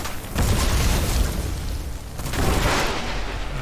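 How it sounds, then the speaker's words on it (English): A wide-arc explosion in the dark fantasy shooter Witchfire lands as a loud, sustained burst with booming low end, followed by a second swell of blast and debris noise about two seconds later. "The arc on that explosion is so wide"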